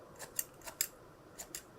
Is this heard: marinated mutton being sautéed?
no